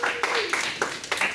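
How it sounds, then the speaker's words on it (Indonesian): A small classroom group claps for the second team's presentation, a handful of distinct, sparse claps spread over a second or so, fairly soft, with voices mixed in. "Beri tepuk tangan untuk kelompok 2."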